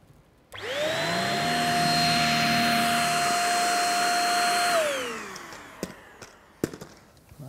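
A cordless vacuum cleaner with a V6 motor and two-tier cyclones runs on a hard floor picking up fine dust: a loud, steady high whine that winds down, followed by clicks and knocks.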